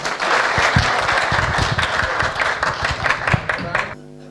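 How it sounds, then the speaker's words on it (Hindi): An audience at a Hindi kavi sammelan poetry gathering applauds, a dense, steady wash of many hands clapping for about four seconds before it cuts off abruptly. "आप तालियां बजाइए"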